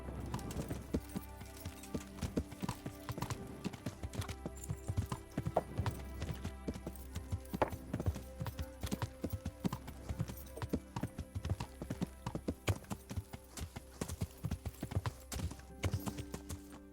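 Steady clip-clop of horse hooves trotting at a regular rhythm in the video game Kingdom Come: Deliverance, close and continuous, with faint bird chirps in the background.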